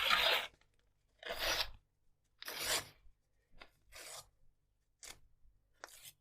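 Paper torn by hand for a torn paper collage, six separate rasping rips of varying length separated by short silences, close and fairly quiet.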